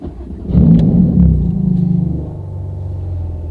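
A Porsche 911 991 GT2 RS engine with an aftermarket IPE exhaust cranks and fires up, settling into a loud, deep, throaty idle rumble close by.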